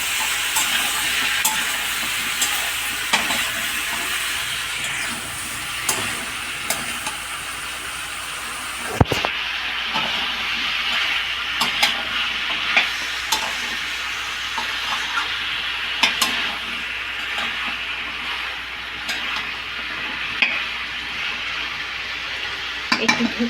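Drumstick and potato curry sautés in a pan. A continuous close sizzle and hiss runs throughout, broken by frequent light stirring clicks and one sharper knock partway through. No one speaks.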